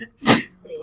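A single short sneeze in a classroom during a math lesson, a sharp broadband burst with a brief intake before it, close and fairly loud, followed by a faint trailing voice.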